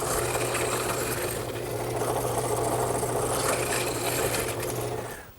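A mortise machine cuts an angled mortise into a garden bench rail, giving a continuous loud mechanical whirring with a steady hum underneath that winds down at the end, with no talking.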